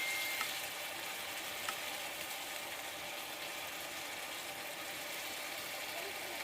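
Salmon fries in a pan with seasoning and greens, giving a steady, continuous sizzling hiss at moderate level with no breaks.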